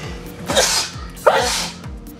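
Two sneezes in quick succession, close and loud, over a low rhythmic thumping in the background.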